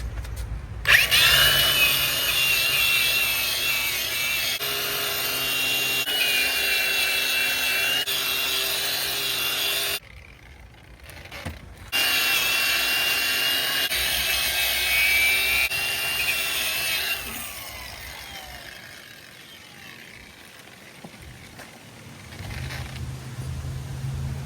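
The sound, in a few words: wire brushing a trailer wheel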